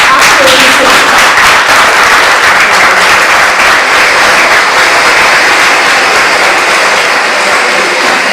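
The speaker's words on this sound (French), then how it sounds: "Applaudissez." A large audience at a French-language school excellence awards ceremony applauds loudly and steadily, dense clapping filling the whole stretch with a crowd murmur underneath.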